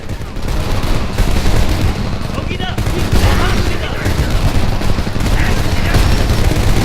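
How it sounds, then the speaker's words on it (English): Heavy caliber gunfire in the shooter Homefront: dense, loud bursts of rapid automatic fire and booming impacts that fill the scene continuously, close and harsh, with voices shouting in the mix. "That's like a heavy caliber gun."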